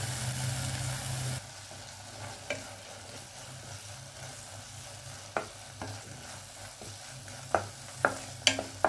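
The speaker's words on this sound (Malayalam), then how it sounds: "ഇങ്ങനെ ടൊമാറ്റോ പേസ്റ്റ് നല്ലോണം ചൂടാക്കുക" Tomato paste heating in a pan over a medium flame for paneer masala, giving a steady low sizzle with a few sharp clicks and scrapes of stirring toward the end.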